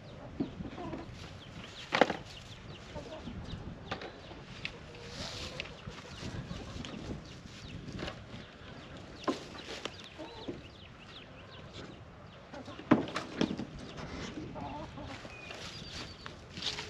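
Chickens in a backyard homestead coop cluck quietly and intermittently, with a few louder squawks and soft rustling scattered over low background noise.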